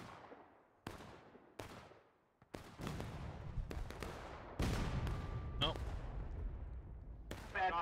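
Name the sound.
artillery cannon fire in the video game War of Rights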